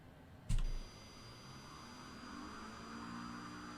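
An aircraft engine in Microsoft Flight Simulator 2020 starts with a sharp click, then a low whine and hum that builds steadily, with thin steady tones sitting above it.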